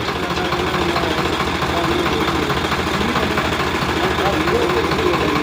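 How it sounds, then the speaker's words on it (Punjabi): Two tractors in Punjab run pumps lifting seepage-drain water into the Sutlej river, their steady low diesel drone close by and continuous, with a faint knocking rhythm throughout. "ਦੋ ਟਰੈਕਟਰ ਜਿਹੜੇ ਪਾਣੀ ਕੱਢਣ ਵਾਸਤੇ ਸੇਮ ਨਾਲੇ ਦਾ ਕੱਢ ਕੇ ਤੇ ਦਰਿਆ ਦੇ ਵਿੱਚ ਪਾਇਆ ਜਾਵੇਗਾ"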